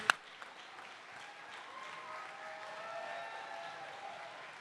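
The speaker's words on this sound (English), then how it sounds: "a nice round of applause for all of our presenters this evening" An audience at an awards ceremony applauds throughout, a soft, steady wash of clapping heard from a distance, with a brief sharp knock at the very start.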